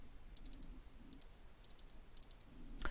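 Computer mouse clicking near a Creative Sound BlasterX H6 gaming headset microphone, a series of light, crisp clicks in small clusters of two and three, faint and close over quiet room noise.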